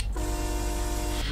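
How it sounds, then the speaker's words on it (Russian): A train horn blares in Euro Truck Simulator 2, one long steady chord-like tone lasting just over a second over a constant rumble of rolling engine and wheel noise. "Действительно поезд!"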